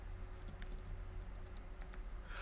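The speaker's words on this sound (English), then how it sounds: "Whoever has an idea, begin typing." Rapid, light tapping of keys on a computer keyboard, steady and continuous over a low background hum, no voices.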